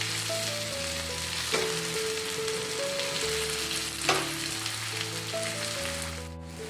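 A fasting-style thalipeeth flatbread sizzles steadily in oil on a pan, a close, continuous frying hiss with a couple of sharper crackles and faint utensil sounds.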